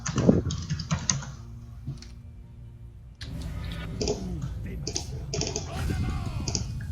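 Fast typing on a computer keyboard, with bursts of clicky keystrokes close by, broken by short pauses, while someone talks casually in French during a League of Legends gaming stream.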